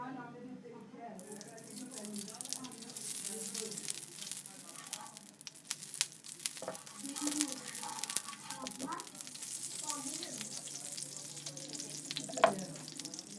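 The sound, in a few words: ghee heating and sizzling on a tava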